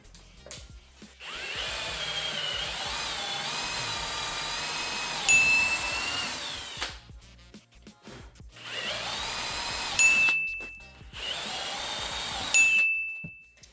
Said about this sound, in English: let's jump and drill the hole